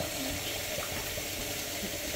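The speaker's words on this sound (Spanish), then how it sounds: "le tenemos que poner agua fría para que paren de cocerse" Cold tap water runs steadily over freshly cooked Chinese-style noodles in a kitchen sink, pouring as a continuous, even splash and hiss at close range.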